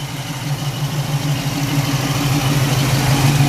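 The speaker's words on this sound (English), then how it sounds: "Got a nice sound with the headers with the Flowmasters." A 1967 Pontiac Firebird's V8 engine, fitted with headers and Flowmaster exhaust, idles with a deep, steady burbling exhaust rumble, close and continuous, growing slightly louder over a few seconds.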